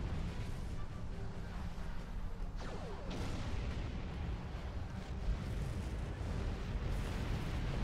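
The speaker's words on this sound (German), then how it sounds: "Okay, der ist schon explodiert." Dense, loud rumbling blasts of a ship explosion in Star Trek Online roll on continuously, with crackling bursts and a deep low-end roar throughout.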